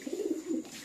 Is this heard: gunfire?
no